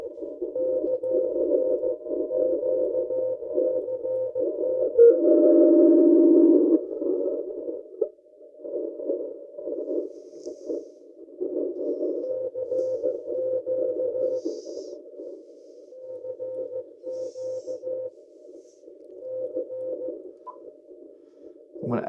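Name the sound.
ham radio sidetone tone in practice mode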